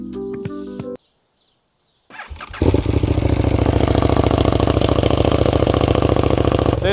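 A KTM 1290 Duke motorcycle with an aftermarket exhaust and mid pipe cranks over, falls silent briefly, then fires up into a loud, close, steady idle with a dense, rapid pulsing throb.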